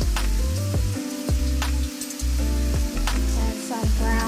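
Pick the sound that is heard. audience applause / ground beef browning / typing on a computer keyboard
ground beef browning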